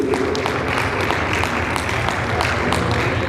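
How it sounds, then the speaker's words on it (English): Wedding guests break into applause, a dense, steady wash of many hands clapping together, fairly loud and close, sustained with no pause. "big applause, please."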